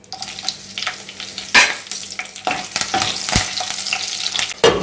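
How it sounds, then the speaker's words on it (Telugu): Green chillies fry in a pan of hot oil with dried red chillies, giving a close, steady sizzle broken by sharp pops and crackles throughout, with no voices. "తర్వాత పచ్చిమిరపకాయలు వేసుకుందాం"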